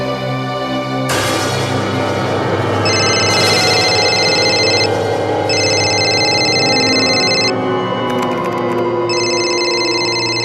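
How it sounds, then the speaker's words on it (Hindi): A telephone rings repeatedly with no one picking up, its bright electronic trill coming in bursts of about two seconds over a steady background of dramatic music, in a tense crime-drama scene. "फोन क्यों नहीं उठा रहे?"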